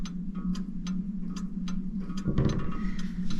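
A crystal regulator mantel clock ticks steadily and close by, with sharp evenly spaced ticks over a low hum and a short rustle partway through.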